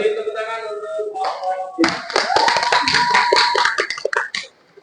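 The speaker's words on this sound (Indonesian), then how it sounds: "Beri tepuk tangan untuk" Applause from a seated audience of teacher trainees after a classroom presentation: a burst of clapping that swells and fades over about two seconds, mixed with voices and a sustained tone.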